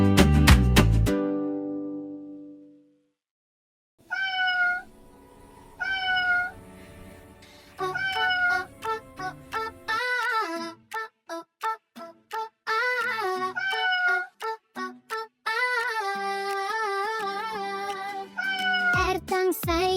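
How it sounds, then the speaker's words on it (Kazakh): A cartoon cat meows again and again in a Kazakh children's song, with many short, bright, rising mews in quick succession after a loud opening sound and a brief silence. "Сары мысық жанымда мияулайды"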